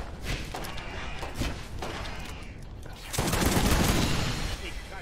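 Dense, continuous automatic gunfire from Borderlands gameplay, loud and close, rattling without pause and swelling into heavier blasts near the end.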